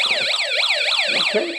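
A Snap Circuits light-triggered alarm wails with a rapidly rising and falling electronic siren tone, loud and continuous, with a brief spoken word over it.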